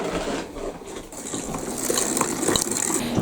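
A kitchen grinder grinds food for a stuffed acorn squash dish with apples, cinnamon, brown sugar and onion, giving a continuous close rattling, churning mechanical noise throughout.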